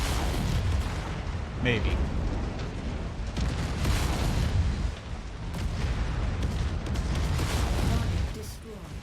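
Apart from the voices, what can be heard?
mech weapons destroying a tank in MechWarrior 5 video game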